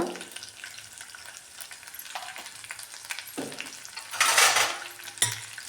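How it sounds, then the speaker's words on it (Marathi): Ginger, garlic, green chili and a pinch of asafoetida fry in a pan for a potato curry, with a steady soft sizzle, scattered utensil clinks and a louder burst of spattering near the end. "आलं लसूण मिरची अशी व्यवस्थित भाजून घेतलेली आहे आता टाकूया थोडंसं एक चिमूटभर हिंग"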